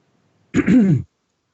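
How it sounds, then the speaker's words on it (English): A single short, throaty cough or throat-clear, close and loud, standing alone in an otherwise quiet room. "Cough, cough."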